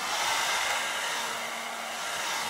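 A hair dryer on low heat blows steadily at close range, drying a face mask, with a continuous airy hiss and no voices.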